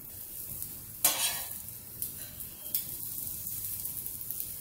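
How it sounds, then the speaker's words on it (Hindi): A crispy veg cutlet pan-fries over a medium gas flame, giving a steady soft sizzle with a brief louder crackle near the start and a few faint clicks, with no talking. "गैस को मीडियम फ्लेम पे रखिए और इसे दोनों साइड से अच्छे से कुक कर लीजिए।"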